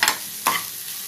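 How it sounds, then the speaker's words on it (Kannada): Fenugreek leaves for palya frying in a pan, two quick scraping stirs over a constant close sizzle. "ಫ್ರೈ ಮಾಡ್ಕೋತಾ ಇರಬೇಕು"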